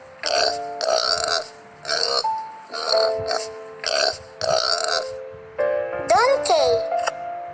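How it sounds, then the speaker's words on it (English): A pig grunts in a loud, close series of about seven short, rhythmic bursts with brief gaps between them, ending in a slightly longer, squealing grunt. "The pig sounds called grunt."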